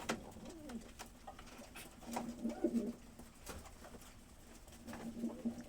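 Pigeons sold in pairs coo softly in low, repeated rolling calls, with a few quiet bursts spread through the stretch and faint background noise.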